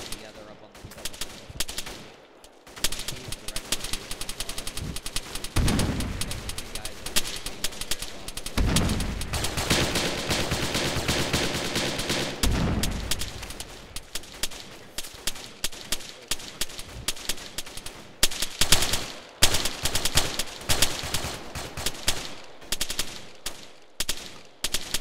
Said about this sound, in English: Looks like we have a LMG right in front of the entryway,